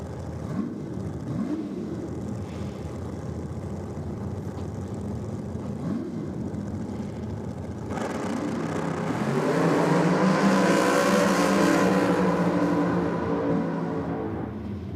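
A Hemi-powered Pontiac drag racing car at a drag strip event makes a sustained engine roar heard from a distance, growing louder and fuller partway through its run, with no talking.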